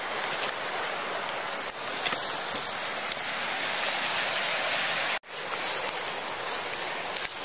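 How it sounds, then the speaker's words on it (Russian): Water rushes loudly and continuously beside a campsite in the April taiga, a steady broadband roar with a brief break partway through. "Шумно тут возле воды"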